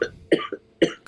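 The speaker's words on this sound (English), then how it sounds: "He's just having a little cough." A man coughs from vaping with the heat turned too high, several harsh, close coughs in quick succession over about a second.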